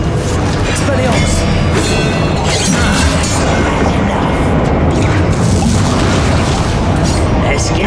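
Repeated booms and crashes from spell combat in the Hogwarts Legacy video game fill a dense, loud, continuous battle mix with impacts landing in quick succession.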